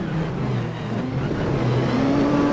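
A Lotus 98T turbo Formula One car in Assetto Corsa accelerates down a main straight, its engine drone steady and loud, rising gradually in pitch through the gears.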